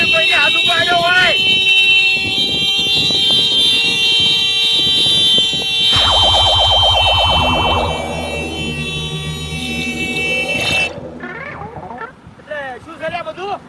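A vehicle horn blares in long, steady honks on a road during a heated roadside argument, with the shouting voices running under and around the sound.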